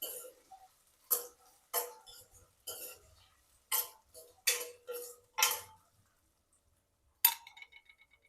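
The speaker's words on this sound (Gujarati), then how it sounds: "હવે આપણે બટેકાને એડ કરી દઈશું" Raw potato pieces dropped one batch at a time into a metal pan for Gujarati farali moraiya khichdi, giving a string of sharp clinks and clatters with short pauses between them, close and fairly crisp, with no talking.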